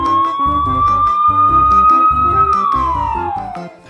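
A toy police car sounds a loud electronic siren that rises and holds in a wailing sweep, then drops in pitch and fades, close by with no talking.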